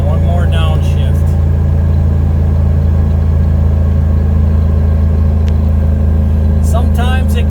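A Chevy 3500 Silverado dump truck engine drones loudly and steadily as it accelerates and downshifts, a deep low hum throughout with brief voices at the start and end.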